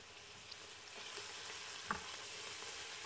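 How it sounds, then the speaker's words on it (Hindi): Ginger-garlic paste frying in oil with cloves, cardamom and cinnamon for a dal chana gosht, a faint, even sizzle throughout with one brief clink of a utensil partway. "अब आपने इसमें लहसुन अदरक की पेस्ट डाल देनी है, इसको भी थोड़ा फ्राई कर लेना है"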